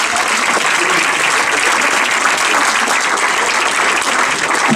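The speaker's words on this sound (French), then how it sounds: "on peut applaudir" An audience at a film premiere applauds, a loud, dense, steady burst of many hands clapping from start to end with faint crowd noise beneath.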